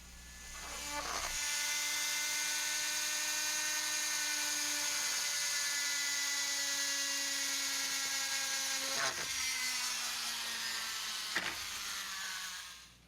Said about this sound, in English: Then I just took out the drill and made the holes.